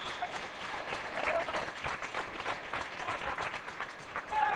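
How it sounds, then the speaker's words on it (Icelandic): Basketball spectators in an Icelandic men's first-division gym game between Breiðablik and Valur clap in steady, dense applause throughout, with crowd murmur underneath. "Vonandi að það drepir samt ekki þegar áhorfendur eru farnir að klappa."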